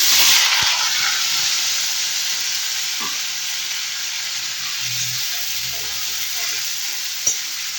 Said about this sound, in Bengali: এই ডুমো করে রাখা আলুগুলো দিয়ে দেবো ভাজার জন্য